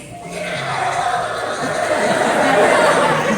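A sea lion at Georgia Aquarium lets out a continuous gurgling, chortling vocalization, rough and throaty, rising slightly in loudness as it goes on.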